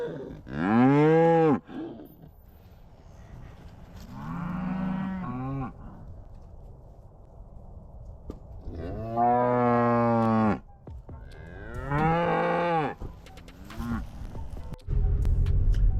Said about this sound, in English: You notice this is one of the bulls, young boy.